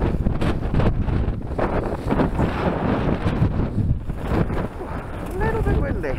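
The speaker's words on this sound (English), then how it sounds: "A little bit windy." Steady wind buffeting the microphone outdoors at a frosty wild campsite near Mam Tor, Edale, a rough, broadband rumble that rises and falls throughout without a break.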